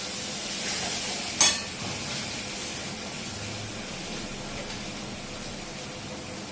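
Egg frying in a pan on a gas flame for egg 65, a steady, even sizzle with a single sharp clink of a utensil early on.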